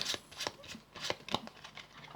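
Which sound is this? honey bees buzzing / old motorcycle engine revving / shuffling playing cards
shuffling playing cards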